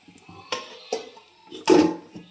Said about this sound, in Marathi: आता झाकून ठेवते एक दोन मिनटं